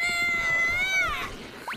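A cat gives a single drawn-out meow, clear and close, that bends upward before fading over a faint murmur of background sound.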